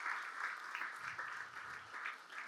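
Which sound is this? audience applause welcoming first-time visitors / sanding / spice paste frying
audience applause welcoming first-time visitors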